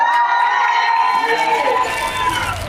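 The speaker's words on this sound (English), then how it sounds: "Let's have a big round of applause for the Lions Den" A loud crowd at a live show cheers and shouts in a sustained, dense roar of voices, with little sign of distinct clapping.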